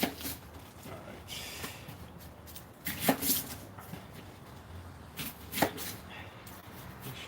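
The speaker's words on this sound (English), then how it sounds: "Start prepping our onions here." A knife chops onions on a cutting board in an irregular run of sharp taps, a few louder strikes standing out, with low room noise behind.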